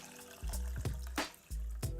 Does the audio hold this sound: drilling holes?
no